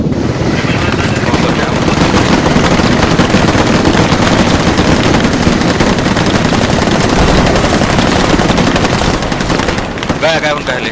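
Dense, continuous machine-gun fire and gunshots from the Squad video game fill a chaotic battle, loud and unbroken throughout, with a helicopter-like drone beneath and voices talking over it.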